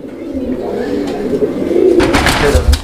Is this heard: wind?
no